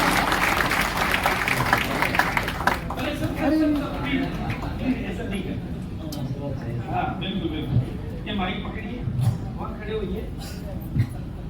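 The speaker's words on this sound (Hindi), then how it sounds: "इनके लिए ताली बजाइए" Audience applause at an RCM celebration seminar, welcoming a volunteer called up on stage; a steady broad clatter of many hands runs throughout, mixed with voices and crowd murmur, fairly loud and close.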